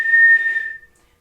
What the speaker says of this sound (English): if you can whistle.